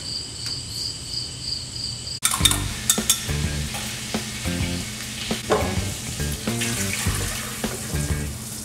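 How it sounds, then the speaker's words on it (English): Alfredo sauce for halibut fettuccine cooks in a pot on the stove, a steady sizzle and bubbling after the lid comes off with a clatter, joined by intermittent stirring and utensil knocks. "we're gonna cook this down and let this simmer till it reduces by half"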